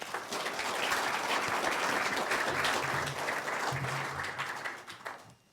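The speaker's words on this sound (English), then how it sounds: "So a round of applause, please." Audience applause after a round of candidate introductions at a public candidates' event, a steady wash of many hands clapping for about five seconds before tapering off, with a faint voice murmuring low underneath.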